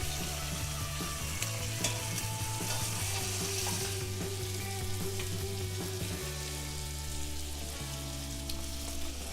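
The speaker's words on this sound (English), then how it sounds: "So now those smoky bacon bits are sizzling away, and we'll add the lamb on top, just to brown slightly in there" Smoky bacon bits sizzle and fry in a pan with lamb browning on top, a steady, dense crackle close by with occasional stirring scrapes and a low background hum.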